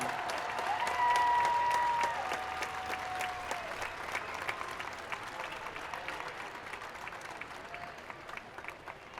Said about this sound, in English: can we have a great big Melissa applause for these great, great, great senior athletes?